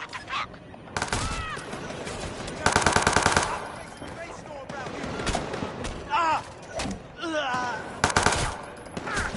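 Mac 11 submachine gun firing in Watch Dogs 2, several loud rapid automatic bursts with short pauses between them, mixed with other game sound effects and bits of voice.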